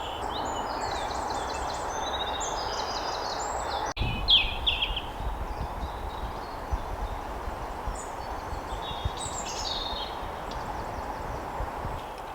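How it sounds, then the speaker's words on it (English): Birds sing in a wet, windy British forest in the morning: scattered high chirps and short trills, fairly faint and distant, over a steady wash of wind and rustling. "So I just spent the last half an hour just listening to the birds."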